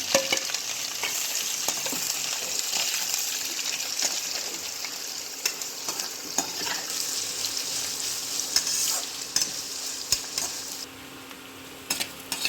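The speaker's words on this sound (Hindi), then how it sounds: "अब इसमें जो कटा हुआ प्याज है इसको डाल दें।" Chopped onion dropped into hot oil with whole spices for mutton korma, a steady close sizzle with occasional stirring scrapes and clinks against the pot, no voices.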